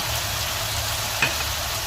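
Steady sizzling of onions sautéing in a hot pan, a close, continuous crackle with one faint clink partway through.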